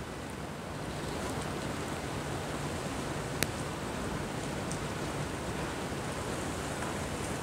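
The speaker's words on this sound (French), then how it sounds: "et d'ailleurs il pleut là." Steady rain falls in a constant broadband hiss, with a single faint click partway through and no voices.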